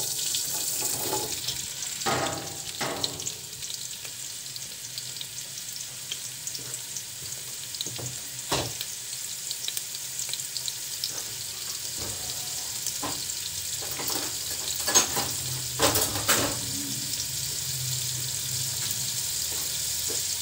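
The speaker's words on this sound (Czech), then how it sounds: "a cibulku zlehka osmahneme" Onion fries gently in oil in a pot on a hot stove, a soft continuous sizzle with occasional clicks and light knocks from stirring, steady and fairly quiet throughout.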